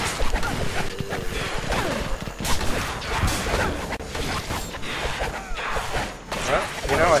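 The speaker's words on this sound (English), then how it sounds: "this is the worst shotgun ever" Shotgun blasts in a co-op zombie apocalypse shooter with limited ammo, sharp bursts scattered among crashing impacts, whooshes and chaotic combat noise, with voices talking over the action.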